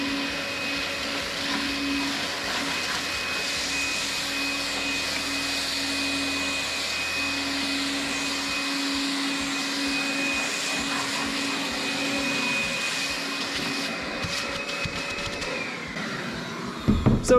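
A Makita XLT 18V handheld portable vacuum cleans dust off a table, its motor whine running steady and close for the whole stretch, with a few louder knocks and bumps near the end.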